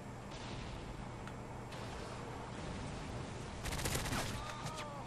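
Gunfire in the video game Modern Warfare 3 on the Dome map in Domination mode, distant rattling shots in a steady noisy battle bed, with a brief sharper burst near the end.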